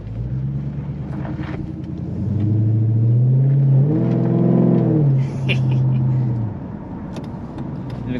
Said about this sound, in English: I just, you know, wanted to go on a little ride in the Magnum